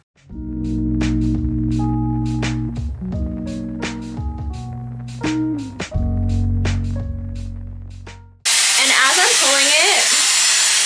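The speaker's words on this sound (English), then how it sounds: "I will blow dry it straight up and then put it in a roller." Dyson Airwrap round brush blow drying a section of hair at home, its loud, close, steady rush starting abruptly after a stretch of music, with a voice talking over it.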